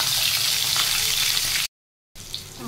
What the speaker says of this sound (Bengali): এবারে ভাজা হচ্ছে।